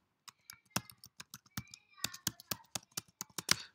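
Rapid, close clicking keystrokes on a computer keyboard as an IP address is entered for a Cisco wireless LAN controller login, an uneven burst of sharp taps growing denser toward the end.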